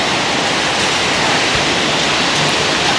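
Heavy rain pours in a steady, dense hiss during a flood-bringing downpour, loud and close with no pauses and no voices.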